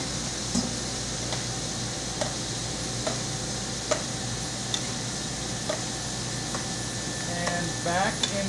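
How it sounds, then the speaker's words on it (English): Pasta tossed with an egg mixture in a pan, a soft continuous sizzle with periodic light scrapes and clicks of the tossing, close and fairly quiet. "Now we're just going to add this to the egg mixture that we had. And we're going to toss it."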